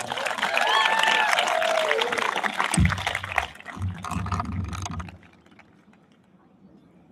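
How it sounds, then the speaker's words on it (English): A crowd claps for a few seconds under a bright voice, then the applause thins out and fades to near silence. "One more big round of applause."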